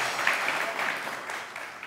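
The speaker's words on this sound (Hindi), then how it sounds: "3 सेकंड कम तालियां बजाई आपके लिए इन्होंने।" Studio audience clapping on a Hindi-Urdu comedy game show, a dense, steady burst of applause lasting about two seconds at moderate loudness, with no talk over it.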